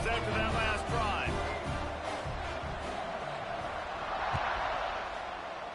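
A stadium crowd in a football video game keeps up a steady roar and cheer after a scoring drive, heard as a constant bed beneath an announcer talking throughout.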